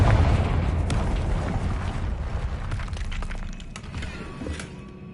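A Confringo spell explosion in Hogwarts Legacy hits loud at the start as a deep boom, then trails off into a rumbling, crackling decay with scattered smaller pops.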